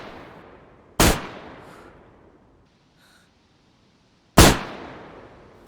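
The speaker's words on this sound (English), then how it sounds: "So first off is a shotgun, where you can fire 1 barrel at a time," A double-barrel shotgun in the DayZ video game fires twice, two loud, sharp isolated blasts about three seconds apart, each with a decaying reverberant tail and near silence between.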